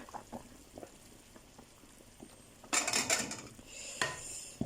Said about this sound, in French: on va laisser que ça mijote encore un peu avant de rajouter notre gombo